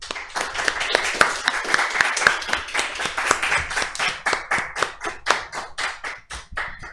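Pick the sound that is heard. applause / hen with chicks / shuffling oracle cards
applause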